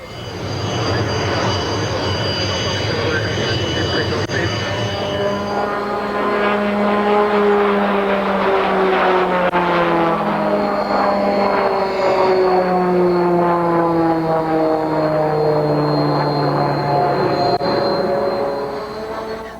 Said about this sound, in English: The unconventionally designed, but absolutely beautiful Piaggio Avanti is a twin turboprop pusher business